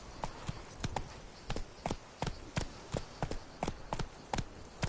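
Roach, the horse in The Witcher 3 video game, gallops with a quick, steady run of distinct hoofbeats that stay at an even, moderate loudness and sound fairly close throughout.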